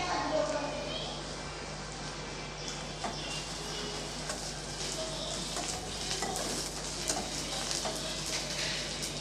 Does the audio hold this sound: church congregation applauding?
no